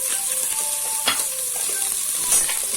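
Potato and celery pieces added to a hot frying pan where they sizzle, a continuous bright crackle with a few stirring scrapes, close and loud, no voices.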